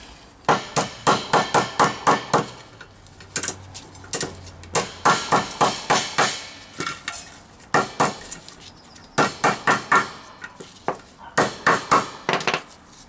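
A metal gearstick gaiter clamp for a Rover P6 V8 is hammered straight, with close, loud bursts of rapid metallic blows separated by short pauses.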